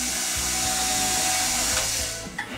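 A power drill whines steadily as it bores a hole into a part during a Revolver 50cc ARF model aircraft build, a loud continuous motor hum that drops off near the end.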